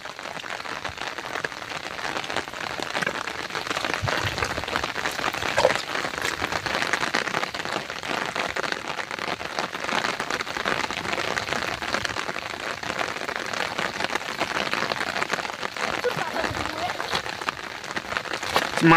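Rain falls on a river where fishermen cast nets, a steady, dense hiss of drops on the water surface that carries on unbroken throughout, with faint voices in the background.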